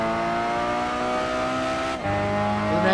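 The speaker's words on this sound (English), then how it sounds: "I'm not listening to any music, just the rumble of the car" A roadster engine in Gran Turismo 5 during an endurance race, a steady droning rumble held at constant revs, dipping briefly at a gear change before climbing again.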